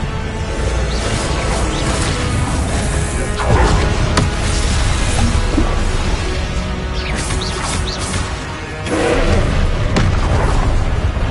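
Confringo fire-spell blasts in the game Hogwarts Legacy, repeated heavy booms and crashing impacts with whooshes over a dense, loud battle backdrop.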